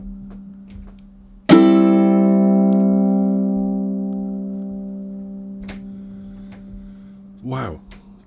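Spruce and maple tenor ukulele: a single plucked note rings out and sustains for several seconds, slowly fading, with a faint steady hum underneath and a brief soft handling sound near the end.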